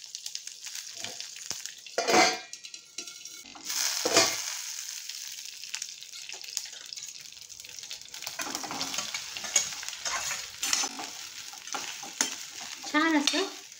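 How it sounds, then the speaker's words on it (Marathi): Mustard seeds, sesame and curry leaves are stirred in hot oil in a pan with the gas turned off, giving a faint steady sizzle and crackle broken by a few louder scrapes and clatters of the spoon. "छान असं ढवळून घ्यायचं आहे आपल्याला."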